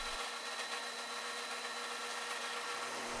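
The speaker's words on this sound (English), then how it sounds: "I set my drill press so the brad point bit only pokes through slightly." A continuous grinding, rubbing whir of a drill press's brad point bit boring a 1/4-inch hole through a wooden drawer, steady and close with no voices.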